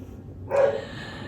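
Dogs passing outside give a single short bark, moderately loud and slightly distant, against quiet room noise.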